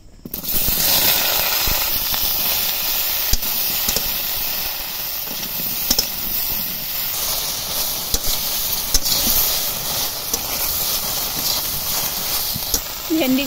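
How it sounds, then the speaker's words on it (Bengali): Okra frying in hot oil in a kadai, a loud dense hiss of sizzling with occasional sharp crackles and pops, close and continuous. "এবার আমি ভেন্ডিগুলো ভেজে নেব"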